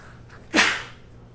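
A single sharp sneeze bursts out, close and loud, then trails off quickly into quiet room tone.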